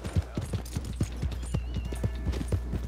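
Hooves of a horse in Red Dead Redemption 2 clip-clop in a steady, even rhythm, close and clear over a low constant rumble, with no talking.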